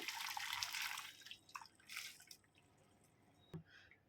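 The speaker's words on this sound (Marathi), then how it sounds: "आता या जाळणी का जाळणीवरती ना आपण हे नूडल्स गाळून घ्यायचे म्हणजे त्यातलं ना पाणी काढून घ्यायचं आहे" Boiled noodles are draining through a strainer: rushing, splashy bursts of water that fade to scattered drips, then a single sharp drip or knock near the end, all fairly quiet.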